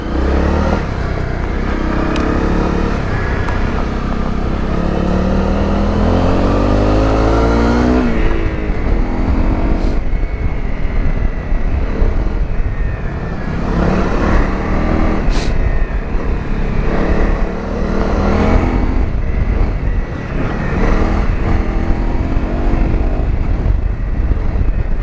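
A Honda CRF250 Rally motorcycle rides off road on new tyres, its engine roaring loudly and continuously close by, with revs climbing and dropping and heavy wind rumble, and no talk.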